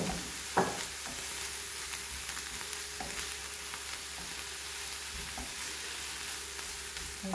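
Chanterelle mushrooms and garlic frying in a pan over lowered heat, a quiet continuous sizzle with a few soft clicks and knocks of stirring, no voice.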